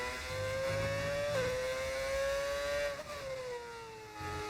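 A Formula 1 racing car engine in a video game drones with a steady, high whine that drops briefly at two gear shifts, then keeps pulling under a constant loud roar.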